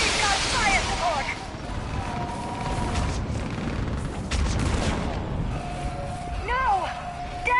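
Gunfire in the video game Mass Effect 3: dense bursts of shots and booms roll across the scene with whooshing sci-fi effects, loud and sustained throughout, mixed with battle noise.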